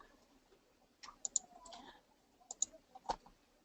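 Computer mouse clicks while using cutting software on a craft project: a handful of sharp, close clicks, some in quick double pairs, spaced irregularly over quiet room tone.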